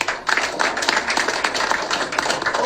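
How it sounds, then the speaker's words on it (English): Crowd at a political press briefing clapping, dense continuous applause with sharp individual claps, fairly loud and steady throughout. "Another round of applause for him."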